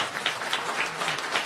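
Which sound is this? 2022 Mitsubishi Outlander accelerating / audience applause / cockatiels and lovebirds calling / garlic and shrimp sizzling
audience applause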